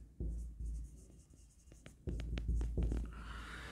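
Chalk or marker scratches and taps across a board as an equation is written, quiet close strokes in irregular bursts with short pauses between them.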